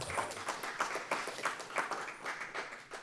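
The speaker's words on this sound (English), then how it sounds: "Another round of applause for Sara, please" A small poetry reading audience claps for a reader with sparse, moderately faint applause. A few hands beat in a loose, uneven rhythm, distinct claps standing out over a light wash for about three seconds.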